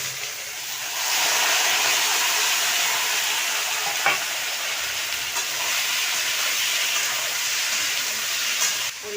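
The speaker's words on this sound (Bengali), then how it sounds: "বন্ধুরা, সবজিগুলো এবার সব তেলের পরে দিয়ে দেব।" Vegetables tipped into hot oil in a wok alongside five-spice seeds and green chillies burst into a loud, continuous hiss and sizzle, with a faint clink of stirring partway through.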